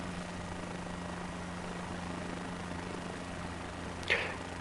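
Aircraft engine in Microsoft Flight Simulator 2024 drones with a steady low hum and faint rotor-like texture, interrupted near the end by a brief whooshing swipe.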